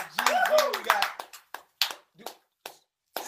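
A small group claps for guests on a show, a few scattered sharp claps following a speaking voice, spaced out and fading rather than sustained applause.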